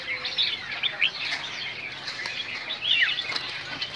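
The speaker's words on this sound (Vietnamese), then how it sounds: "Ở đây có đủ loại các loại chim" Many caged songbirds at a large bird market in northern Vietnam, with dense overlapping chirps, tweets and short whistles plus brief wing flutters, busy and moderately close without speech.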